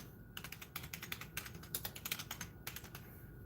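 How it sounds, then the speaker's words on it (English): Close, quiet keystrokes on a computer keyboard as someone types a search into a search bar, a quick uneven run of clicks with brief pauses and no talking. "we're going to type in here in the search bar, Crystal Edge Technology Screens."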